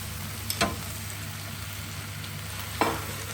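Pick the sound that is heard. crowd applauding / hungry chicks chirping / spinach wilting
spinach wilting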